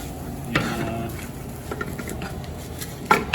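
Onions cooking in a pan for risotto give a faint, soft sizzle under a quiet room, with a few scattered clinks and scrapes from stirring, including a sharper knock near the end.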